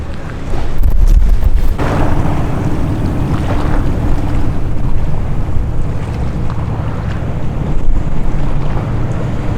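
A vaporetto water bus in Venice carries a steady, loud engine rumble mixed with rushing water and wind buffeting the microphone, continuous throughout with no voices.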